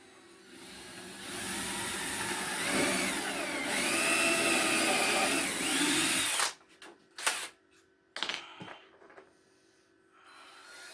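A close power drill drilling a ported subwoofer box for an 8-inch Skar speaker runs continuously with a wavering motor pitch for several seconds, then cuts off, followed by a few sharp clicks and clunks of handling.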